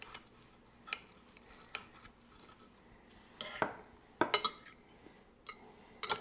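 Cutlery clinks and taps against a plate while cutting into home-style enchiladas with melted cheese. The sharp, sparse knocks are close and fairly quiet, with a louder cluster near the end.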